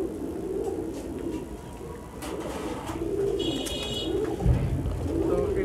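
Highflyer giribaz pigeons cooing softly inside a pet shop, a steady low murmur of coos with faint chirps and shop background noise throughout.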